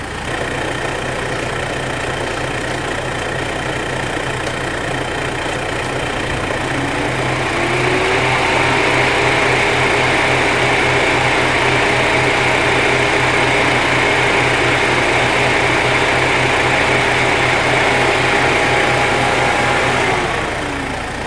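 A SPAL brushless radiator fan in a 2005 Mitsubishi Pajero runs steadily under an idling engine, then switches on about a third of the way through, raising a louder, higher, continuous whoosh that holds until near the end.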